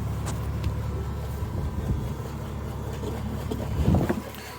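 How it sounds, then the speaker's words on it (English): A Perkins 4.236 diesel engine on a sailboat idles near the exhaust, giving a steady low rumble with a slight swell toward the end and no talk. "So this is the engine idling at like"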